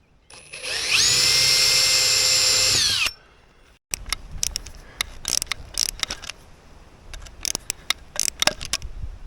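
A power drill drives a screw into the skeg of a Mirror dinghy with one loud, steady whir lasting a few seconds. It stops abruptly and is followed by scattered close clicks and taps of handling.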